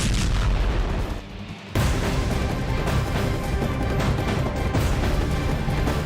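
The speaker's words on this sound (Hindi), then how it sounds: "यूक्रेन से जो तस्वीर सामने आई है, धमाके की यह तस्वीर है।" A loud explosion from a Ukrainian drone strike on a Russian tank, a sustained heavy roar with blast rumble that drops briefly and then surges again, continuing dense and booming throughout.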